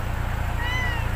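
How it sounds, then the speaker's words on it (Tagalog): A stray cat meows over steady low background noise, its calls showing as faint rising and falling wails. "may pusang galao"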